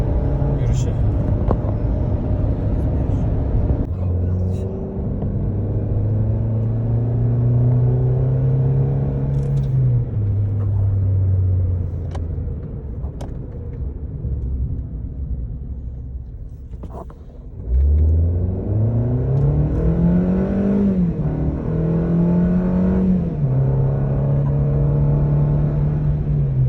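A car running in sport mode drones with a low engine rumble whose pitch climbs and falls as it accelerates, easing off midway before surging again, steady and close throughout.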